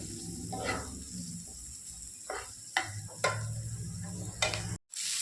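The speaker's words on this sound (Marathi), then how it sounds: "मी आता हा गुलाबी होईपर्यंत असा कांदा परतून घेणार आहे" Onion being sautéed in a pan with turmeric, with a soft sizzle and several sharp scrapes or stirs of a spoon against the pan, close and fairly quiet.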